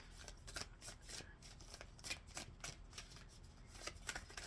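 Rapid papery riffling of a deck of playing cards being shuffled, in repeated quick bursts close by, with no talking.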